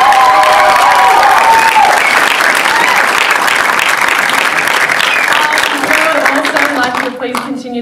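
Loud, dense applause from an audience at a short film Q&A with cast and crew, steady clapping with some cheering that tapers slightly near the end while a voice speaks over it.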